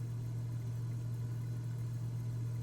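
A Cessna 206 piston engine in Microsoft Flight Simulator drones steadily at cruise power, a constant low hum with no pauses and no voices.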